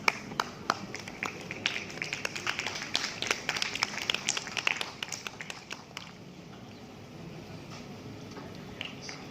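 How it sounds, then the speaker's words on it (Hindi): Audience applause at a Hindi fortnight award distribution ceremony: a dense burst of clapping for several seconds that thins out and fades to a quieter room. "सर के लिए जोरदार तालियां।"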